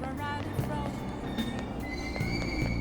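Train running in the Persona 5 Royal video game: a steady rumble of rolling carriages with faint squealing tones and clicks, continuous and fairly close for a few seconds.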